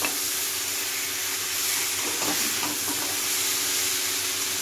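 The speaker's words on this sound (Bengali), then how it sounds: "এইভাবেই তরকারিটা কিন্তু আমি কষিয়ে নেব খুব সুন্দর করে" Vegetable curry being sautéed in a pan makes a continuous close sizzle and hiss with faint stirring scrapes in the middle, with no talk.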